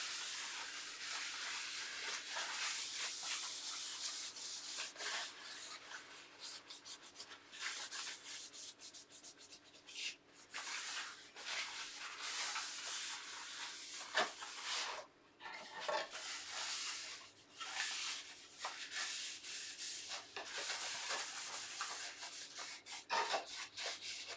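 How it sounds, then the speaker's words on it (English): A cloth wipes excess oil off a timber keepsake box, soft continuous rubbing and swishing strokes that come in uneven bursts and pauses, close and fairly quiet, with no talk. "So just going to wipe off the excess."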